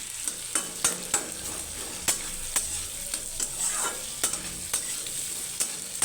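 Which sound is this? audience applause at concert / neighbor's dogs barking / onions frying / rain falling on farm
onions frying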